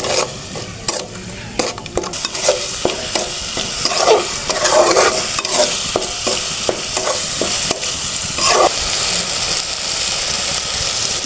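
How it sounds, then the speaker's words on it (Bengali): Spices with turmeric, salt and bay leaves stir-fried hard in a pan, a loud continuous sizzle with rapid, repeated scraping and clacking strokes of the spoon all the way through. "খুব ভালো করে নেড়ে কষিয়ে নেব"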